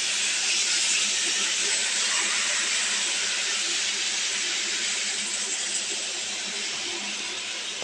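Water poured into hot oil in a pan of curry sets off a strong, steady hiss and sizzle that stays close and loud throughout, easing only slightly toward the end.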